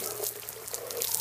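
Ice water pours from a bucket over a person, a continuous loud splashing gush close to the microphone, with no voices over it.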